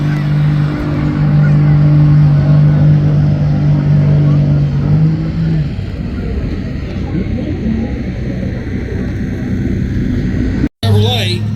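A Chevrolet pulling truck roars loudly at a truck and tractor pull, holding a steady drone before its pitch climbs and wavers as it sets off, with an announcer talking over the engine.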